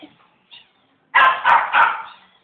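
Three loud, close dog barks in quick succession, following a couple of faint soft yips.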